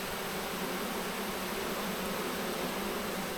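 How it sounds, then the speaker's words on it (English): Honeybees fanning at a hive entrance make a dense, steady buzzing hum that continues without a break, close up, with no voices. "A whole bunch of fanning going on."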